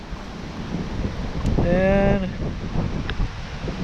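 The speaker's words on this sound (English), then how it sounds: "That's windy as heck." Strong wind buffets the microphone outdoors during a trout fishing trip, a steady broadband rumble throughout with a short voice in the middle.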